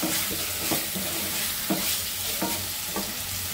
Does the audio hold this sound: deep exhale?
no